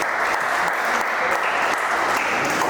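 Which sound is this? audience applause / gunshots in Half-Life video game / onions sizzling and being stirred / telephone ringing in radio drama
audience applause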